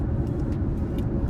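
A 2021 Hyundai Kona Electric cruising on a highway at about 70 mph in hot weather, giving a steady low road and tire rumble from inside the cabin.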